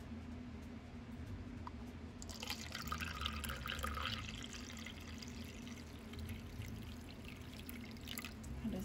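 Elderberry syrup poured into a measuring cup, a steady liquid trickle starting after a quiet couple of seconds and running on to the end, close and moderately faint.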